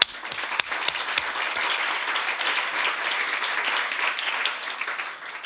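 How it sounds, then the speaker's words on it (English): A conference audience applauds steadily, a few sharp early claps growing into sustained mid-distance clapping that holds for several seconds. "Applause."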